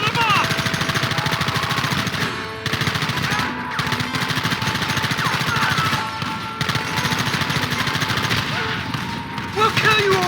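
Sustained gunfire in Red Dead Redemption, a dense, continuous rattle of shots with only brief pauses, loud throughout and mixed with faint shouting.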